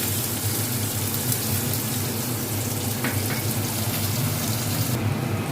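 Chopped onion dropped into hot oil in a pan while cooking doi rui, a steady, close hiss and sizzle that runs on evenly with no voices.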